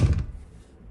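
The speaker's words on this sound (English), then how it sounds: "Now, if you're out of the room, close door" A door swinging shut with a single dull thunk at the start, followed by a fading low rumble and near silence.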